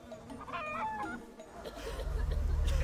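Chicken clucking as a sound effect: a few quick nasal clucks and squawks up front, fading into a low rumbling background near the end.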